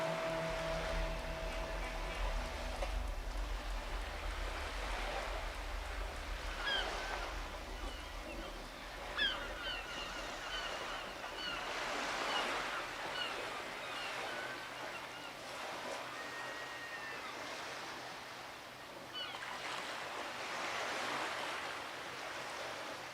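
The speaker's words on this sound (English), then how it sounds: "The sound of water. I love that sound." Continuous rushing water in the video game Disco Elysium, like a flowing stream or gentle surf, holds a steady, even level throughout.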